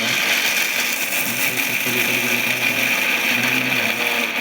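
A mixer grinder whirs loudly and continuously, its motor whine steady with a rattling, gritty churn of peanuts inside the jar.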